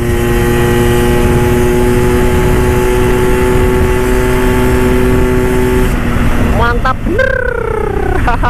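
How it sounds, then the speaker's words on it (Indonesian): Vespa scooter with a new aftermarket exhaust revving, a loud close steady engine drone that gives way to a sharp rising and falling rev burst near the end. "Ini knalpotnya suaranya garing pokoknya."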